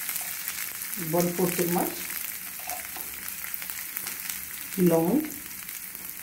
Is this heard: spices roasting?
yes